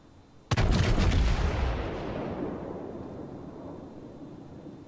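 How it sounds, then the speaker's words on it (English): The Amagi battleship's main guns fire a single heavy salvo in World of Warships, a sudden loud booming blast that rolls into a long rumbling decay over several seconds, with no speech. "I'm going to get a shot off at him as soon as the guns rotate"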